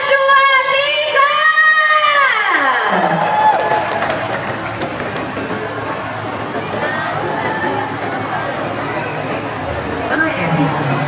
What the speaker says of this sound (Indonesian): saya minta teriakan dan tepuk tangannya untuk Star